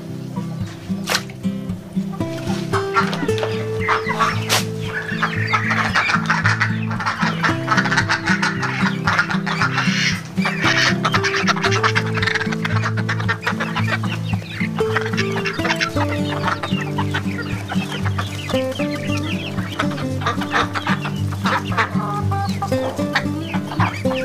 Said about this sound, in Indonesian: Karena itu bebek udah manggil-manggil kayaknya.